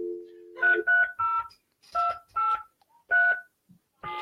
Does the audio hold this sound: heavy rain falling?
no